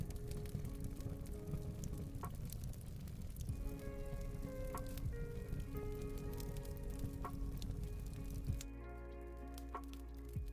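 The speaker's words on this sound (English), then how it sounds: "I have the subtle sound of the fire crackling in the background" A subtle crackling fire ambience plays in an app, a steady soft hiss and pop texture with scattered crackles continuing throughout, alongside faint tonal music that drops out near the end.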